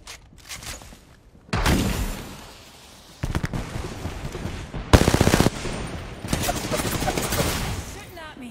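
Video game gunfire crackles in repeated loud bursts of rapid shots, mixed with a few sharper blasts and quieter gaps between volleys, close and harsh throughout.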